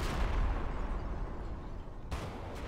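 Rapid bursts of gunfire and explosive booms from a competitive video game match in a tournament final, dense and loud for the first half before easing, with a sharp blast near the end.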